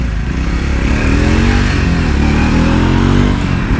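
A Triumph Speed 400 motorcycle accelerates at lower revs while lane splitting, its engine pulling loud and close with a steady, rising drone and no talk over it.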